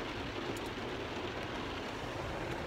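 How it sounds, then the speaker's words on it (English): Rain falls on a car with its rear windshield wet, a soft, steady wash of noise heard from inside at low level, unbroken and without talk. "it's raining."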